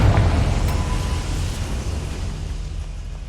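Confringo blasting spell explosion in the video game Hogwarts Legacy: a loud rumbling blast at the start decays into a long, dense crackling tail that slowly fades over several seconds.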